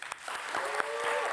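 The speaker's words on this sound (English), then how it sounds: "Yes, round of applause." A round of applause from the audience at a Greenpeace Netherlands climate justice event at Pakhuis de Zwijger, moderate steady clapping rising slightly in the brief stretch, with a faint voice underneath.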